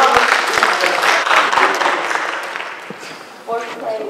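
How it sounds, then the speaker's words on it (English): A crowd applauds loudly at a school SkillsUSA culinary event, the clapping fading over a few seconds as voices start to talk over it. "give them a round of applause"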